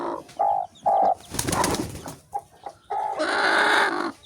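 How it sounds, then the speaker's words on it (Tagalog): A broody mother hen clucks close by in short repeated calls, then lets out a longer, louder squawking cackle near the end. "So kunin ko muna itong isang inahin."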